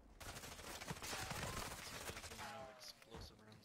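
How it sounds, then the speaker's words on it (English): Explosive sniper rounds fire in a shooter video game, a dense, loud run of overlapping blasts and crackling impacts that fills nearly four seconds with only brief dips, with faint voices mixed in. "Explosive rounds on a sniper."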